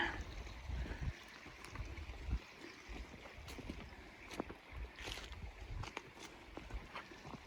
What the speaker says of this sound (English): And the creek is down there.